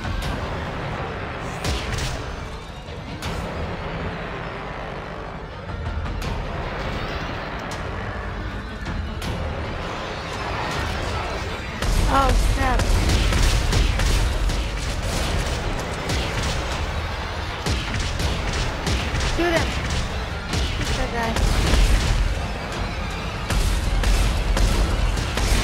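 Gunfire from a weapon in the sci-fi horror video game Dead Space 3, a dense, continuous run of loud, near blasts and crashes that grows heavier midway, mixed with busy combat noise.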